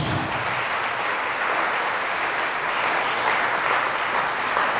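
A church congregation applauds Jesus during a Catholic service, a dense, loud, continuous wall of clapping that holds steady from start to finish.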